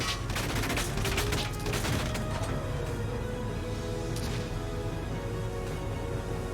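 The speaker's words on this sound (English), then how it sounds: "The enemy's firing back!" Enemy gunfire in a video game: a sustained fusillade of rapid shots, loudest in the first two seconds, then continuing as steady background battle noise.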